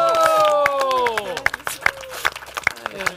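A live crowd claps and cheers for the winner of the Raclette Grill Challenge 2022, with sharp, irregular hand claps rising over a sustained musical tone and voices in the background.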